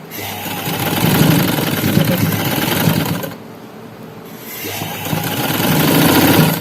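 A sewing machine stitches a neckline in two bursts of rapid, loud mechanical whirring, pausing briefly in the middle before running again.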